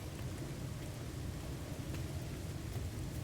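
Rain and thunder in a space exploration video game, a dense constant downpour hiss over a deep rolling rumble, steady and enveloping with no speech.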